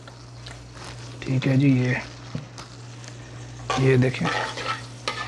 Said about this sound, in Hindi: भून रही है हमारी इलायची और सौंफ।